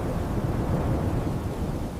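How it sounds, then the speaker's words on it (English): Low, rumbling storm noise from a children's story sound effect, a steady dull roar of thunder and wind holding at constant loudness with no voices over it. "The storm is going to break in 3 seconds."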